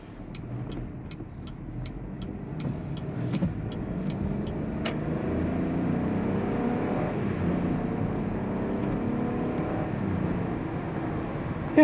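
Inside a 2022 Chevrolet Trailblazer ACTIV AWD with a 9-speed automatic, the engine hums softly under light throttle, a faint smooth drone beneath road and cabin noise, with a few light ticking clicks early on.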